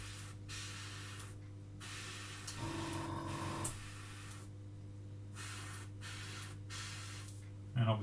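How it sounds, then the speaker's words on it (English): An airbrush spraying paint onto a scale model gives off bursts of soft hiss that start and stop under a constant low electrical hum, with a brief louder spray in the middle and a clatter at the end. "And obviously half decent airbrush helps."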